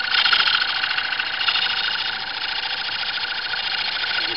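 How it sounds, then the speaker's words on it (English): A wood lathe cuts along the edge of a wooden tobacco pipe, giving a steady, loud, continuous whirring hiss of spinning wood against the cutter with no pauses and no one talking. "You can see how it's just milling off the edge of the wood."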